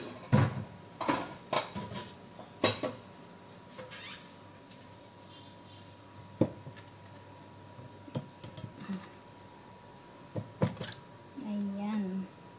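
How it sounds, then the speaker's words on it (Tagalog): Cold tofu placed onto a plate in a home kitchen, with scattered light clinks and knocks of dishes and utensils, quiet and close, separated by pauses. "Ilagay natin siya sa isang plato."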